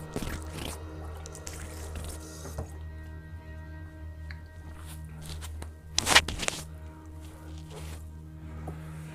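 Water runs and drips while a Parker 55SL semi-slant safety razor is rinsed at a sink, a soft continuous trickle with scattered drips and one brief louder splash midway, close and quiet with no talking.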